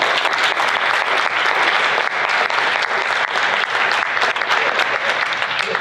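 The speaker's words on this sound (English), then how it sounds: "Give yourself a round of applause." Conference audience in a large hall giving sustained applause, dense even clapping from many people throughout.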